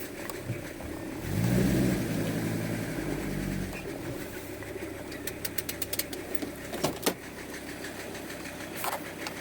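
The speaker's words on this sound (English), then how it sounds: "Hear that noise? It's a rattly noise." A car engine turns over and runs at a steady idle, with loose rattling clicks and knocks that sharpen toward the end, a noise suspected to come from the fan belt.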